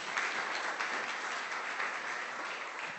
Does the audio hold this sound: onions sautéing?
no